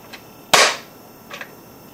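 Nerf Rampage blaster fitted with an Orange Modworks 5kg aftermarket spring and its air restrictor removed fires one sharp, loud snap, followed by a faint mechanical click of the priming action, with no speech.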